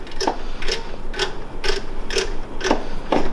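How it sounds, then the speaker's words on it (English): A ratchet tool clicks while the throttle restriction screw is taken off a TrailMaster Hurricane 200X: about seven evenly spaced, close, crisp clicks over a steady low background, with no talking. "we're going to take the throttle restriction screw off"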